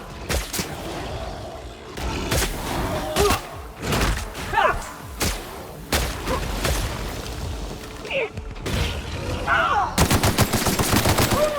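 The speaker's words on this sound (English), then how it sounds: "Nice shot, Batman!" Rapid video-game gunfire in The Outer Worlds, with bursts of sharp shots, thumps and a closing automatic volley, loud and close, while characters speak between the shots.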